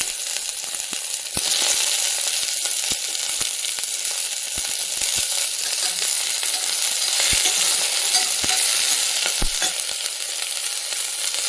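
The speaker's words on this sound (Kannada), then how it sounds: "ಈಗ ಈರುಳ್ಳಿ ಹಾಕ್ಕೊಳ್ಳೋಣ. ಈರುಳ್ಳಿ ಫ್ರೈ ಆದಮೇಲೆ ಹಾಗಲಕಾಯಿ ಹಾಕ್ಕೊಳ್ಳೋಣ." Onions frying in oil in a pan for a kidney bean and bitter gourd curry, a loud continuous sizzle up close with occasional sharp clicks of a spoon stirring against the pan.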